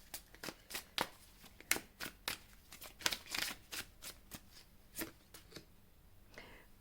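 Tarot cards are gathered up and handled, giving a string of crisp, close slaps and riffling clicks in an uneven rhythm, quiet overall, ending in a softer brush of cards with no speech.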